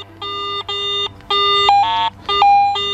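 Garrett AT Pro metal detector giving repeated electronic beeping tones, several short bursts then a lower warbling, fluctuating tone marking an intermediate-conductivity target such as foil, loud and clear with no talk.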